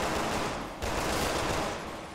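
Heavy gunfire from the Resident Evil 6 Ada campaign on PC, a dense run of loud, rapid blasts that is cut off briefly near the start and then carries on alone without talk.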